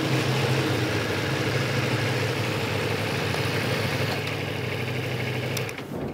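A motorcycle engine idles and turns over at low speed while the rider eases along on the clutch, a steady close rumble running alone before fading slightly near the end.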